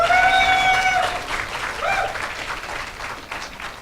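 Audience applauding and cheering at a university entrance ceremony for new and transfer students, dense clapping with raised voices and a few shrill whistles, loud at first and then thinning slightly.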